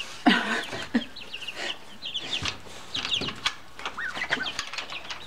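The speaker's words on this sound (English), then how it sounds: "Oh, the chickens want some too." Several chickens cluck and squawk in short, busy bursts close by, with a brief flutter of wings among them, at a farm where birds and a dog are kept.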